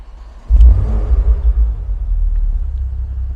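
A 2015 Porsche Panamera 4S fires up inside a building with a sudden deep low rumble after a quiet moment, then settles into a smooth, steady idle.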